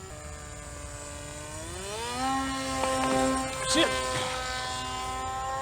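Radio-controlled aircraft making a slow flyby, a buzzing motor whine that rises in pitch as it passes close, with a person exclaiming near the end.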